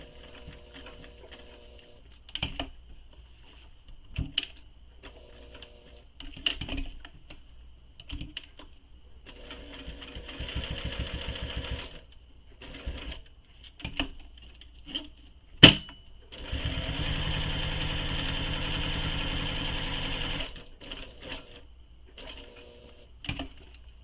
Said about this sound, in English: I tend to back away like that from the sewing machine, hold my threads, and just start stitching